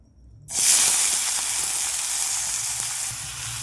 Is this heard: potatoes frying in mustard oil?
yes